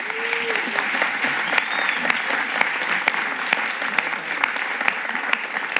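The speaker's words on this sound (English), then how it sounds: "I believe that they deserve a special round of applause." At a city commission meeting, the room applauds young people recognized for community service: sustained, even applause from a crowd, with a faint voice briefly audible underneath.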